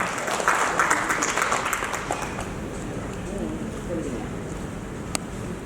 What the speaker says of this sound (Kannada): ಜೋರಾಗಿ ಚಪ್ಪಾಳೆ ಮೂಲಕ.